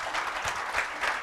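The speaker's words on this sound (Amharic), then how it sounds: "ያተረፈው አጨብጭቡ" Church congregation clapping at a gospel service, a short burst of dense, moderately loud applause from many hands, with no voices heard.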